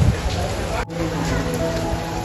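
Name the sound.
heavy rain at Raigad fort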